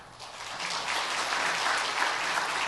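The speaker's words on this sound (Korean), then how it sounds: "큰 박수로 한 번 더 축하해 주시기 바랍니다" A church congregation at a Sunday worship service claps loudly and continuously in a warm, full burst of applause, with no talking over it.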